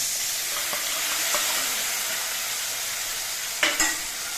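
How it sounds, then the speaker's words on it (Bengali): Slit green chillies and a mixed spice paste go into a pan of raw banana pieces already fried reddish, giving a steady frying sizzle with a few soft stirring scrapes and a brief louder spatter near the end. "এবার এর মধ্যে দিচ্ছি চেরা কাঁচা লঙ্কা আর আমি যে মশলাটা গুলে নিয়েছিলাম সেই মশলাটা"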